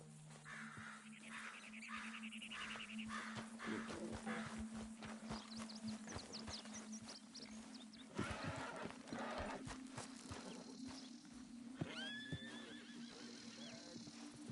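Horse in a video game: hooves clip-clopping steadily nearby, with a whinny and crows cawing in the background amid low ambient game sound.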